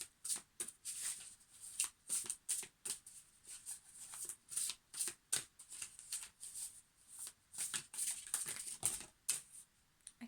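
Lemurian Starchild Oracle cards are shuffled in quick, uneven bursts of crisp riffling and soft slapping, close and fairly quiet, with no talk over the shuffling.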